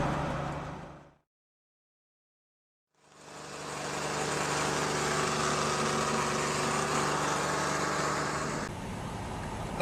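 An old Chevrolet Silverado pickup's engine running at close range with a steady, buzzing drone, briefly cut off near the start before resuming and holding an even idle.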